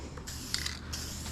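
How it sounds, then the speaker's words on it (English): Spray paint hisses steadily onto a pit bike, a broad close-up spray with a few short clicks and rattles from the can. "You're spraying it on like it's bed liners."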